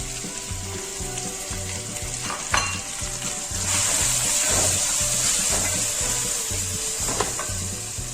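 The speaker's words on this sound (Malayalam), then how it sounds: "നമ്മൾ അരിഞ്ഞു വെച്ച സവാള ഇട്ട് കൊടുക്കുക" Chopped onions sizzling in hot oil with curry leaves for a Kerala chicken perattu, a steady loud frying hiss with intermittent stirring scrapes and a brief clatter partway through.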